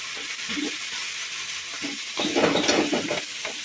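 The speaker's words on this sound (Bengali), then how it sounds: "এখন বাঁধাকপিটা দিয়ে ভেজে দেবো ভালো করে" Shredded cabbage frying in a pan makes a continuous close sizzle. Scraping, clattering bursts of stirring grow busier toward the end.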